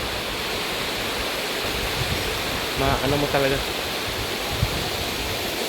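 A countryside river runs over mossy rocks in a steady, broad rushing wash, loud and continuous, while a voice speaks briefly partway through.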